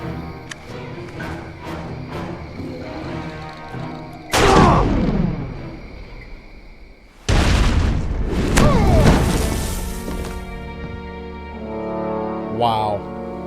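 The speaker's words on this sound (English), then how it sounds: "that explosion's gonna attract attention" A big explosion in the game Lost: Via Domus hits twice as loud, booming blasts with long rumbling decay, set against a quieter ambient game soundscape.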